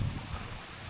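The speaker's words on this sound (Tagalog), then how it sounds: "Ay, kabog po ng hangin oh." A brief gust of wind rumbles and buffets the microphone outdoors beside a house during a coconut harvest, a steady broadband roar with no voices.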